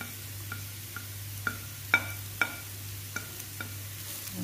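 A spoon or spatula scrapes and taps rhythmically in a pan over a low, steady sizzle of carrots frying.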